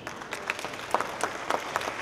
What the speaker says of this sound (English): Please give a warm round of applause to John Bickford.